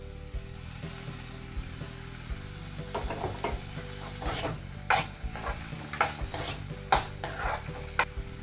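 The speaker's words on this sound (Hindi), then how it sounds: "कैरेट को भी हम थोड़ा सा फ्राई करेंगे थोड़ी देर" Carrots frying in a pan for a healthy tart, a soft steady sizzle broken by repeated scraping stirs that grow more frequent toward the end, close and fairly quiet.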